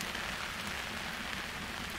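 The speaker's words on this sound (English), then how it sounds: "So the rain's back." Steady rain patters onto a tarp at a rainy campsite in Abel Tasman National Park, a dense, even hiss of drops close overhead with no voices.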